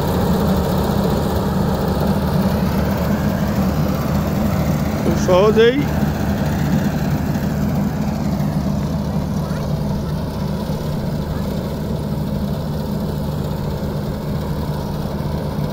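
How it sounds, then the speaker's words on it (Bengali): A combine harvester cuts boro rice in a paddy field, its heavy engine droning steadily and loudly throughout, with a brief higher mechanical whine partway through. "হারভেস্ট মেশিন দিয়ে বোরো ধান কর্তন করা হচ্ছে খুব সহজেই"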